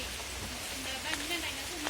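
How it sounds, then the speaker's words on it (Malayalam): Soft, steady patter of light rain, a faint even hiss with occasional drops, and a low murmur of voices beneath it. "ഇവിടെ നല്ല മഴ പെയ്യുന്നുണ്ട് നല്ല മഴയല്ല ചെറിയ മഴ പെയ്യുന്നുണ്ട്"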